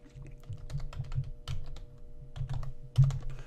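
Keys on a computer keyboard are tapped close up in quick, irregular bursts of clicks with brief pauses between runs, as when a password is entered, with no speech.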